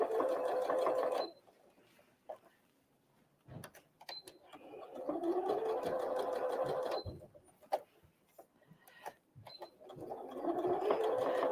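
A sewing machine stitches around the edge of a Christmas tree napkin in bursts, running steadily for a few seconds, pausing briefly, then starting again, close and clear with no talk.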